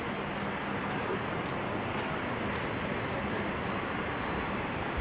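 Steady broadband roar of an airplane at Amsterdam Schiphol Airport during showery weather, a distant continuous rumble with no distinct peaks, a faint high whine on top and no talk.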